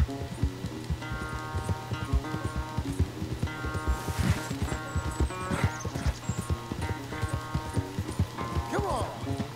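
A horse in Red Dead Redemption 2 clip-clops along at a steady, rhythmic pace with hoofbeats close and clear, layered over a game music bed and a brief whinny-like sound.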